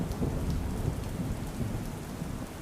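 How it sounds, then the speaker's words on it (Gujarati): A torrential monsoon downpour in Nasvadi taluka pours as a dense, loud, unbroken roar with a deep rumbling low end, and no voices. "आपने जणावी दईश के नसवाड़ी तालुकामां धोधमार वरसाद वरसी रह्यो छे।"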